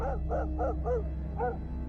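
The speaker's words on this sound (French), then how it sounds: "Mon chien se met à aboyer." A dog barks outdoors at night, giving four quick, fairly close barks followed by a pause and one more, over a low steady hum.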